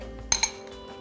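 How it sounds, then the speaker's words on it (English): Two quick, close clinks of a utensil against a dish while sautéed pork chops with apples are plated, sharp and bright, a fraction of a second apart, over a quiet kitchen background. "we're going to plate up our pork"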